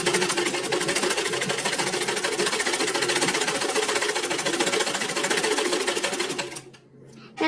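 A sewing machine runs steadily close by, stitching fabric for a handmade latkan tassel, its rapid needle clatter continuous for several seconds before stopping near the end.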